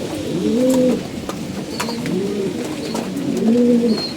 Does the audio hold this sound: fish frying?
no